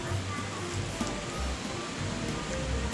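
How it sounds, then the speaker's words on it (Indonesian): A river flows in front of a shop, giving a steady, broadband rushing wash that stays even throughout, with faint low voices or traffic rumble beneath. "di depan toko saya itu ada suara sungai, jadi berisik banget ya"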